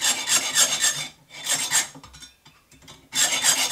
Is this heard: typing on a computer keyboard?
no